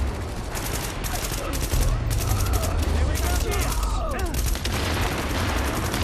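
Rapid automatic gunfire in The Division, loud bursts of shots with brief gaps, close and continuous through the stretch.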